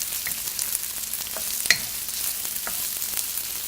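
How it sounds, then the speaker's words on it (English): Finely sliced brown onion sautéing in oil over medium-high heat, a soft continuous sizzle with a few faint stirring clinks and one sharper utensil tap. "I'm going to put in finely sliced medium brown onion to saute."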